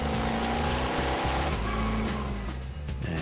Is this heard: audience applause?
no